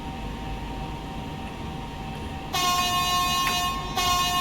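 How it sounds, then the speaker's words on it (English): An SNCF train in Train Sim World 5 begins to move, a low rumble joined halfway through by a loud, sustained high-pitched whine or tone that briefly dips before resuming. "train चल पड़ी है हमारी"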